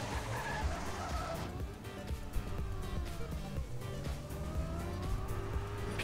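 Tires squealing as a car brakes hard and skids in the racing game Trackmania, long screeching slides over engine noise, loud and continuous for several seconds.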